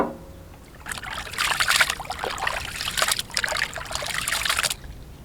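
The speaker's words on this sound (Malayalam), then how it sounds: "നമ്മുടെ ബീഫ് കൂട്ടനെ നല്ല രീതിയിൽ അങ്ങോട്ട് കഴുകി കുളിപ്പിച്ചെടുക്കാം" Tap water runs and splashes while beef chunks are washed, a steady trickling stream lasting several seconds before stopping, close and fairly loud, with no talk over it.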